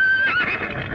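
A horse gives one short, loud, close whinny lasting about a second, with no talking.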